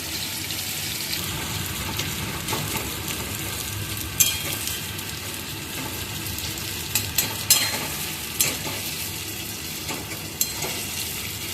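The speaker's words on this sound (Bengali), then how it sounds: "এর মধ্যে সর্ষের তেল আর পেঁয়াজ চলে গেল এটাকে ভালো করে ভেজে ভেজে বেরেস্টা করা হবে" Onions and mustard oil sizzle steadily in a pan, a continuous close fry with a few sharp clinks and stirring knocks scattered through it and no talking.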